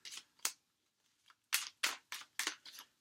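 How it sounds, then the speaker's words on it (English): Tarot cards being shuffled by hand, a run of crisp riffling bursts in two groups with a short pause between, close and fairly quiet. "3, 2, and 1 last shuffle for our Leos"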